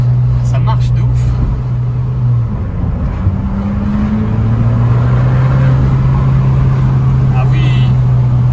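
Go-kart engine droning steadily while driving, a strong sustained hum that dips briefly and rises again in pitch, with people talking over it throughout.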